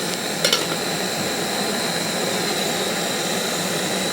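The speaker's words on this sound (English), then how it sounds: "put the lid on the stove." A camping stove burns at a campsite with a steady, close, rushing hiss, broken early by a couple of faint clicks.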